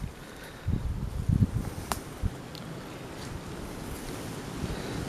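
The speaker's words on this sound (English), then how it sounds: "There's the wind started up again." Wind gusts buffet the microphone outdoors in a wet permaculture water garden, with a low rumbling roar that swells in a few bursts before settling to a steady background hiss.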